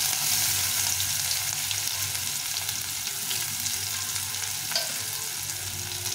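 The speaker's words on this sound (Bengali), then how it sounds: "পেঁয়াজটা ভালো করে ভেজে নেব।" Chopped onion fries in a pan with cumin seeds in oil, a steady close sizzle that holds throughout, with a faint stirring scrape near the end and no talk.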